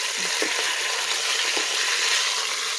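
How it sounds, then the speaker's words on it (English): Meat browns in an Instant Pot with a steady, loud sizzle and frying hiss throughout, broken by a few soft scraping stirs. "So I'm just browning the meat before I set my Instant Pot"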